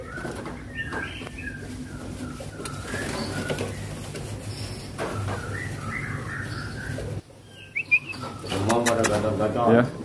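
A murai (magpie robin) songbird in good condition sings in loud, varied bursts of whistles and chirps, with people talking nearby and some wing flapping and cage rustling.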